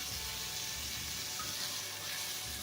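Onion, ginger and garlic paste frying in a pan, a steady close hiss and sizzle with no talking.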